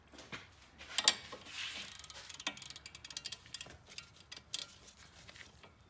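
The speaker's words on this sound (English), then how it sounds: "So then we just check everything with a wrench." Ratchet wrench clicking in quick irregular bursts while checking and snugging brake caliper bolts on a 2005-2010 vehicle during a front pad, rotor and sway bar end link job, close and fairly quiet, no talking.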